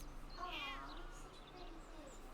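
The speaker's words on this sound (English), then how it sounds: "Aw, such a pretty kitty." A cat meows in the video game Baldur's Gate 3, a single drawn-out mew near the start, fairly soft over quiet game ambience.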